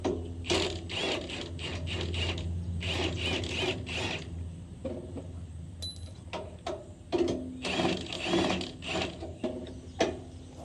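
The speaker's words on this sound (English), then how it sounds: "This is the 16 mil socket you want to be using for this." A ratchet wrench with a 16 mm socket working a bolt on a Jansen wood chipper, rapid clicking pawl bursts in repeated strokes with short pauses between, close and fairly loud.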